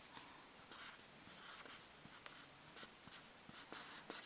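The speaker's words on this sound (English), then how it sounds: "So first, I'll write that down." Pen or marker writing by hand on a surface, a run of short scratchy strokes with brief pauses between them, close and fairly quiet, with no talking.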